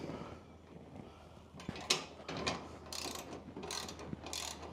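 Cyber Gear running board mounting bolts are tightened with a ratchet, making short bursts of close mechanical clicking and grinding separated by brief pauses. No one talks.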